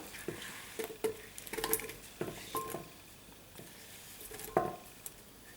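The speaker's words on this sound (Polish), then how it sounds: "Teraz do blendera wrzucimy nasze pokrojone jabłka i kawałki melona." Chopped apple and melon pieces drop into a blender in a series of soft, separate thuds and clunks, fairly close and moderately quiet, with no talking.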